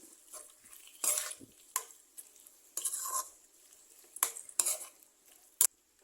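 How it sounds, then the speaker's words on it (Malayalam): Drumstick flower curry being stirred in a pan: intermittent spoon scrapes and clinks against the metal over a faint simmering sizzle, close and fairly quiet. "നമ്മുടെ കറിയിലേക്കൊന്ന് താഴ്ത്തി വെക്കാം നന്നായിട്ട് മിക്സ് ചെയ്യാം"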